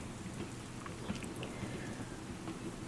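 Steady rainfall forms a dense, even hiss throughout, with scattered drops tapping close by and a faint low rumble beneath, like a rain storm.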